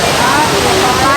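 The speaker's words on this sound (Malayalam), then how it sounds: "ഞാൻ ആദ്യമായിട്ട് കാണുന്നത് അതാ തുഷാരഗിരി വെള്ളച്ചാട്ടം" The Thusharagiri waterfall in Wayanad roars as a steady, dense rush of falling water, loud and close, filling the whole short stretch without a break.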